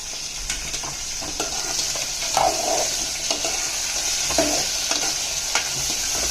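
Sambar ingredients stirred in a hot pan: a steady bright sizzle under repeated close scraping strokes of a spoon against the metal, loud and continuous, without speech.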